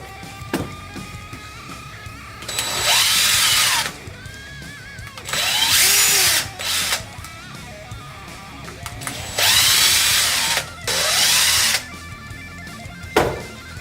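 A power drill whirs in four separate bursts, each a couple of seconds long with a clear spin-up and wind-down, driving small screws on a Kyosho Mad Force RC car, with quiet handling noises between bursts.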